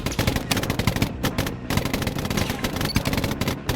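Rapid bursts of automatic gunfire in a shooting video game, loud and nearly continuous, crackling in dense volleys with brief gaps.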